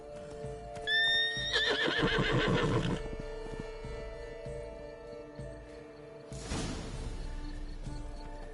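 Roach, a horse in The Witcher 3 video game, gives a loud whinnying neigh, then snorts and shuffles with hoof clops before a second huffing snort, all close by.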